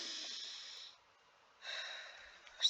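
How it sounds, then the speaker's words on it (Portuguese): A slow, deep breath is released in a soft, airy exhale lasting nearly a second, then after a short pause another long breath follows, close and quiet, during a guided relaxation exercise. "E solta a respiração lentamente."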